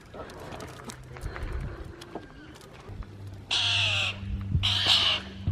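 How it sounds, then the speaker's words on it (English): Birds gathering around while kangaroos are being fed outdoors, their calls heard mid-distance over open-air background noise, with two loud, harsh bursts near the end. "All these birds are coming around."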